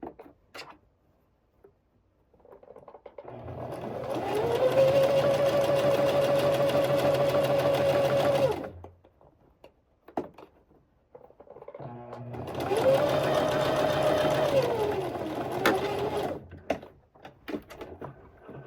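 A home sewing machine stitches a top along the collar edge in two separate runs of steady, fairly quiet motor whirring. A short pause with soft handling noises separates the runs.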